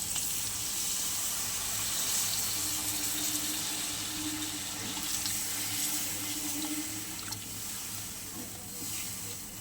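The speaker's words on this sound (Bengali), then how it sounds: "এবার দিয়ে দেবো জল।" Water runs steadily from a tap or is poured continuously into a pan while Bhola fish curry is being made in a home kitchen, a constant close-up gushing wash with no talk.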